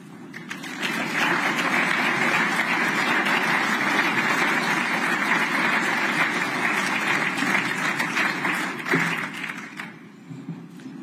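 A large audience at the World Economic Forum annual meeting in Davos applauds steadily for about ten seconds to welcome Swiss President Viola Amherd, a dense, even roar of clapping that fades at the end.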